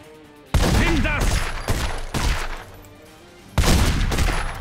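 Bursts of gunfire from an upgraded weapon in The Godfather video game on PS3, three loud volleys of rapid shots separated by brief quieter gaps.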